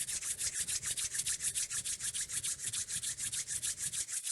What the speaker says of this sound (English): Rub the palms and fingertips together.